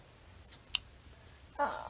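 A few sharp scissor clicks, close and quick, spaced apart in a quiet room, followed by a short rustling sound.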